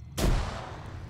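A grenade goes off in a military shooter game during a Belorussia operation: a single sudden, loud, close blast with a booming low end that decays over about a second, with no talking.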